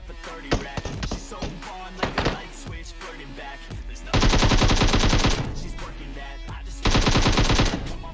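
Gunfire from a DP gun in a battle royale mobile game: scattered shots, then two long rapid automatic bursts, loud and close over game sounds.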